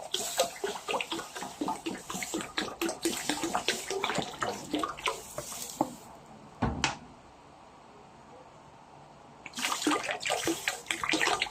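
Vinegar poured into a cooking pot for papaya atchara, heard as a bubbling, splashing pour with clinks and knocks, then a quiet gap with one sharp knock, before the pouring starts again.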